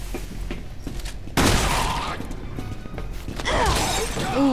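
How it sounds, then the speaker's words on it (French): Shotgun blasts in Resident Evil 6: a loud, broad burst of firing and impact noise near the middle, followed by lingering combat sounds and a further burst toward the end. "Vive le fusil à pompe"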